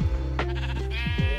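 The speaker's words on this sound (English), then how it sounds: "We got a lot of sheep." A short burst of Minecraft sheep bleating: one wavering bleat followed by a couple of quicker calls, close and clear with no talk.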